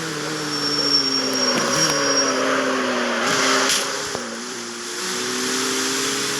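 A car in the mobile racing game CarX Street drifts under the handbrake, its engine droning with a shifting, tire-like hiss and brief dips in pitch, continuous and fairly loud with no talk.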